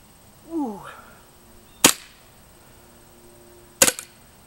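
A KWA Scorpion gas airsoft gun fires outdoors, two loud, sharp pops about two seconds apart, the second with a quick double crack, following a short whistling warble.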